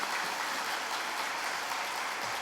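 A church congregation at a Sunday service claps steadily in welcome of first-time visitors, a dense and even patter of applause heard from some distance, with no voices over it.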